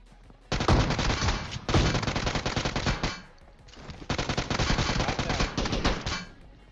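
UMP submachine gun fire in the battle-royale game PUBG, two long loud automatic bursts roughly a second apart in gap, rapid and continuous.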